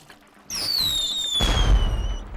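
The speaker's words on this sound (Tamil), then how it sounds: "வெடி சத்தம் கேக்குது." A whistling firework streaks upward, then a loud rumbling burst of crackling firecrackers rolls out, fairly close, at a temple flag-hoisting festival.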